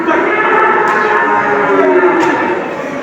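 Calves mooing at a busy livestock market in Çubuk, several drawn-out bellows overlapping one another close by, with crowd murmur and faint talk in the background throughout.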